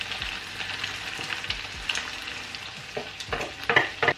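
Kangkong stems stir-fried in a hot wok for beef chao fan, a steady bright sizzle broken by repeated close scraping strokes of the spatula, with no talking.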